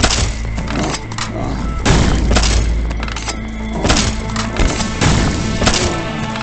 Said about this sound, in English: its more interesting counterpart turns it into a bouncing energy grenade launcher of some sort